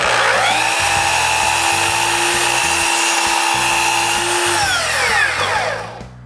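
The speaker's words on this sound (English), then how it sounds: "Then I cut more planks." A loud, high whining power tool cuts through wooden wall planks during shop construction, running continuously for several seconds before winding down at the end.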